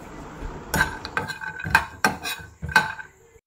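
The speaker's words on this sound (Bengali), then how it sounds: "এদিকে বাদামটাকে ড্রাই রোস্ট করে নিচ্ছি" Sharp metallic clinks and scrapes of a utensil against a pan as nuts are dry-roasted, several distinct knocks in an irregular rhythm, close and fairly loud.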